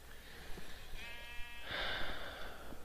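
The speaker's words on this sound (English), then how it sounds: "Sheep." A sheep in a block-building video game gives a single short, wavering bleat, heard clearly and alone against faint background sound.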